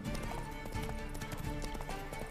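Horse hooves clip-clop steadily at a quick riding pace in The Witcher 3, a continuous rhythmic clatter under a busy game soundscape.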